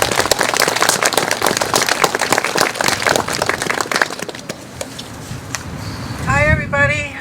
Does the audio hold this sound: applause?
yes